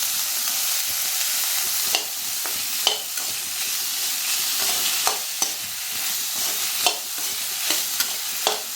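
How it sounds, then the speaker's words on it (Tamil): Ginger garlic paste sautéing in a pan for cauliflower gravy: a continuous close sizzle broken by repeated sharp scrapes and taps of a spoon stirring, with no voices. "நல்லா பச்சை வாசனை போகிற அளவுக்கு நல்லா வதக்கிக்கலாம்."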